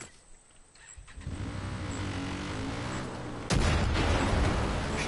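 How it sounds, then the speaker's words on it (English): A quad bike engine in the video game Far Cry 5 starts up and runs with a steady rev, then jumps abruptly louder and rougher partway through, staying close and prominent. "we're gonna head hop onto the quad bike"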